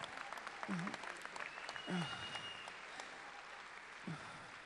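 Audience applause at a political party conference Q&A, a steady wash of clapping throughout, quiet and distant, with a few voices breaking through over it.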